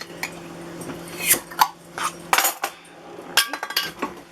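A glass jar of home-canned potatoes being opened, a near series of metallic clinks and taps of lid and jar, with a sharper pop-like click partway through, with no talk.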